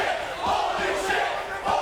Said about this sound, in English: The crowd telling you what they think of everything.